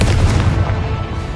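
Confringo fire-blast spell exploding in the Hogwarts Legacy video game, a short heavy boom with a deep rumbling tail, loud and close with no talk.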